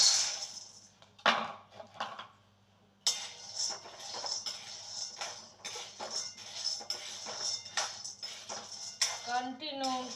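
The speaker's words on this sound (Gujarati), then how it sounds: "કન્ટિન્યુ હલાવવું જોઈએ." Peanuts being stirred in a pan on a gas stove: repeated metallic scrapes and light clinks of a spatula against the pan, fairly close and irregular, with a voice talking at times.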